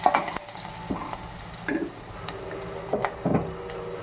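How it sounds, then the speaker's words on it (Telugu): Ingredients spluttering in oil in a pan for gongura pachadi, with a soft background sizzle broken by a few scattered scrapes and sharp crackles, close and fairly quiet, with no talk. "ఇవి కూడా కొంచెం చిప్పట అనేదాకా వేసుకుందాం"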